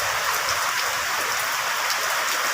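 Steady rain pours during the rainy season, a continuous dense hiss of drops on surfaces with no pauses and no voices, close and fairly loud throughout.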